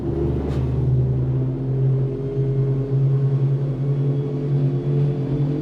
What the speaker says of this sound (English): Twin, 300 horsepower Mercury Marine Outboards.